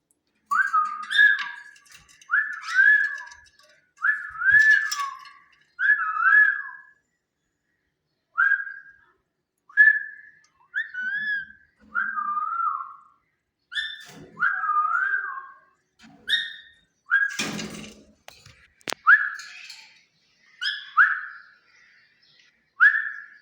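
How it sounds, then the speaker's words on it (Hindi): A pet parrot whistles along with a person's whistling, trading short rising and falling whistled phrases in quiet surroundings, with brief pauses between the calls. "मेरी सीटी के साथ सीटी बजा रहा है"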